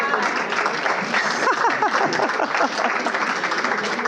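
Audience applause at an evening conversation event, a steady, full round of clapping from many hands filling the room, loud and continuous throughout.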